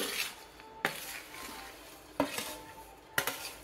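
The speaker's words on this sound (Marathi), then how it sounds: "दोन्ही साहित्य एकत्र करून हे चांगलं एकजीव होईपर्यंत आणि गूळ विरघळेपर्यंत आपण ढवळूया।" Grated fresh coconut and jaggery stirred in a pan over low heat, a quiet scraping rustle broken by three sharp spoon knocks against the pan, with no one talking.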